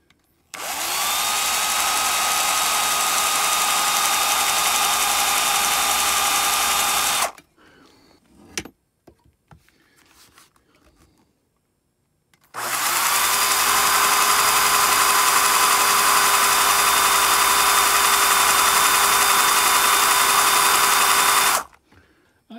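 A power drill whines steadily at high speed in two long bursts, drilling holes for a homemade .410 shotshell roll crimper, with a few seconds of quiet handling noise between them, close and loud.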